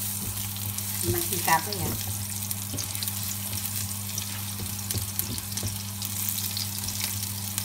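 Garlic sautéing in the oil left from frying fish, a steady sizzle with stirring scrapes as a Filipino coconut-milk fish dish is started, while a voice speaks briefly over it.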